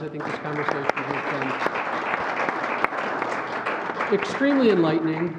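Conference audience applauding the panelists at a regional talent-gap event, a steady wash of clapping running under someone speaking at a microphone throughout.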